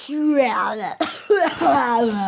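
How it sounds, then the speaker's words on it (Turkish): A child tries to cough but lets out a voiced, sing-song sound broken by a couple of sharp bursts like a sneeze, all close and fairly loud. "Öksürmeye çalışıp hapşıran çocuk"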